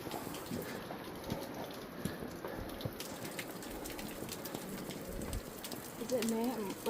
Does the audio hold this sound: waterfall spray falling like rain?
yes